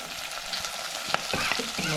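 Small onions frying in hot coconut oil, a busy crackling sizzle with quick spitting pops and a few stirring scrapes, close and continuous.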